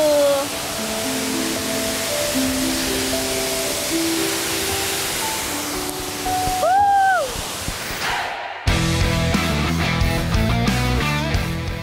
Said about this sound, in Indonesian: Ini dia air terjun tingkat paling atas di mana akan ada canyoning